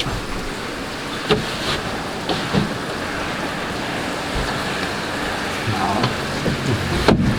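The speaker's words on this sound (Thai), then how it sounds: "โอ้ฝนตก" Rain falling on an MBC fishing boat: a steady dense hiss of rain and water with occasional soft knocks and bumps, constant and fairly loud throughout, with no clear talk.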